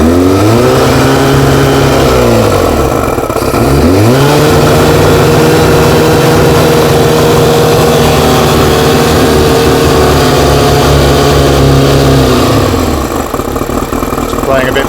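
A motorcycle engine runs on choke while struggling, its revs sweeping up and down several times, falling, then climbing and holding a steady high drone before easing off, loud and close.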